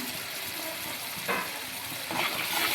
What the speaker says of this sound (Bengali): এই মশলাটাকে ভালো কষিয়ে নেব